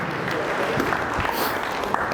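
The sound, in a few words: audience applause for Will Huddleston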